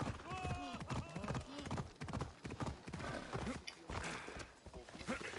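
Steady, rhythmic clip-clop of horse hooves at a trot, fairly close, with a faint whinny and light game ambience under a voice, from the video game Assassin's Creed Odyssey.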